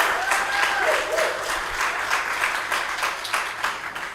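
An audience at the UNISA Innovation Festival claps after a presentation, a full and fairly loud burst of applause that holds steady and then eases a little toward the end, with a faint voice briefly under it.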